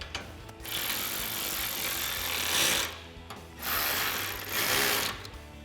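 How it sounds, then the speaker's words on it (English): Close ratcheting and rubbing clicks from a 13mm socket ratchet tightening a bolt on an aluminum roof rack for a 2024-2026 Toyota Tacoma, coming in three steady bursts with short pauses between. "we can use our 5mm Allen head and our 13mm socket to tighten that down."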